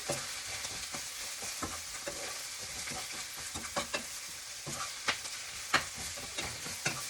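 Shrimp and vegetables sauté in a pan with garlic pepper and ranch seasoning, a continuous close sizzle broken by repeated scraping and clacking strokes of a stirring utensil, irregular and moderately loud, with no voice.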